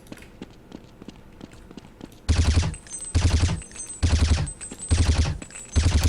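Burst fire from a rifle in Counter-Strike 1.6: five loud, close, short bursts of a few rounds each, evenly spaced about a second apart, after a stretch of quiet footsteps.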